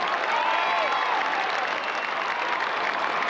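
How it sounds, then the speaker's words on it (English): Carlton supporters cheer a goal at a 1998 Australian football match against the Western Bulldogs, a broad crowd roar and applause filling the stadium, distant and sustained, with whistles rising through it. "belated cheering there from the Blues supporters"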